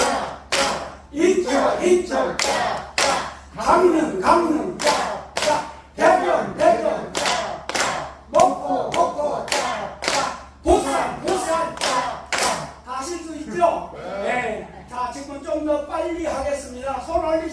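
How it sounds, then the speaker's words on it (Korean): A group of elderly participants at a day care center clap in unison, two claps per beat in a steady rhythm, loud and near, with a leader's voice chanting along between and over the claps. "저하고 같이 박수를 한 번 쳐보십시다. 두 번씩 합니다"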